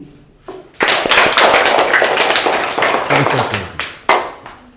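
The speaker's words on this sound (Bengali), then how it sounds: "আমরা একটু জোরে একটু তালি দিই" A classroom of fourth-grade students claps together loudly at close range, a dense burst of sharp hand claps lasting a few seconds and tapering into a few scattered final claps.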